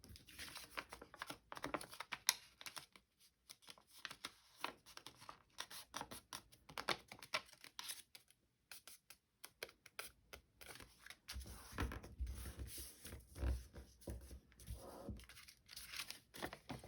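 Paper being cut around its edge while decorating a train journal page, a run of soft crisp snips and rustles coming in uneven bursts with short pauses, close by and fairly quiet, no talking.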